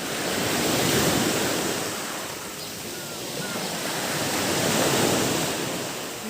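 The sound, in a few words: sea waves and wind on a beach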